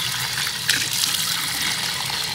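Water poured from a container into a box set out as a drinking spot for birds in hot summer weather, a steady close gushing splash lasting the whole moment with no talk.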